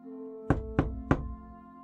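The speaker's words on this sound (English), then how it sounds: "A sudden pounding on my door shattered the silence." Three heavy, evenly spaced pounding knocks on a door, loud and close, standing alone over a quiet low hum.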